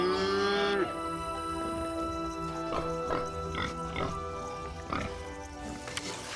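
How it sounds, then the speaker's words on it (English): Pigs grunting and cattle lowing on a farm in Svaneti, Georgia, with a long low moo at the start followed by scattered close snorts and oinks, and a voice talking over them. "Pigs and cows provide meat and milk."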